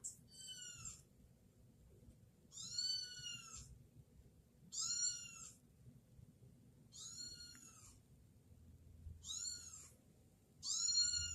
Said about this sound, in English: Calling a cat.